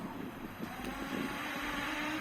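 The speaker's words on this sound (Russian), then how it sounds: "Просто сильный ветер." Steady, low rumbling wind noise buffets the microphone continuously, a dull broadband roar with no voices.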